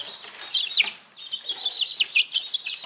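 A ginger hen in a poultry yard gives a run of quick, close clucks, with a short pause between bursts, over soft background fowl noise.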